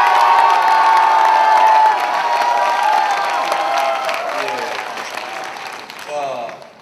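Large crowd at an evening worship gathering of a student fellowship retreat clapping and cheering loudly, with shouts and whoops rising over the applause before it gradually tapers off.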